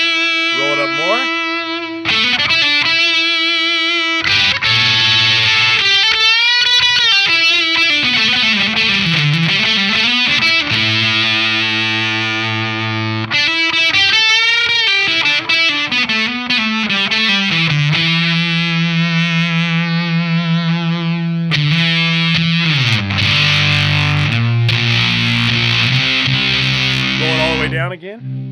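An electric guitar plays through an LSL Moon City fuzz pedal, moving from thick, sludgy, heavily distorted sustained notes and bends toward cleaner tones as the volume knob rolls back, loud and continuous.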